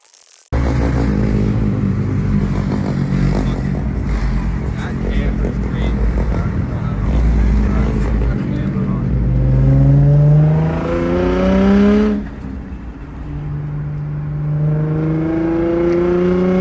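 A Nissan G35 drift car with a VQ35DE V6 and aftermarket exhaust idles with a loud steady rumble, then revs several times in rising sweeps before settling back, close by, with no talking over it.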